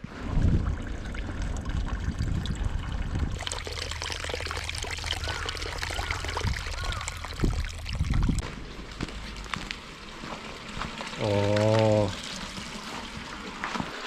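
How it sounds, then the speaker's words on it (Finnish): Hot spring water pours and splashes into a public outdoor foot bath in wintry Hokkaido, a continuous nearby flow with brief louder gushes, while a person talks over it. "Tää on julkinen jalkakylpy. Siihen tulee kuumasta lähteestä vettä"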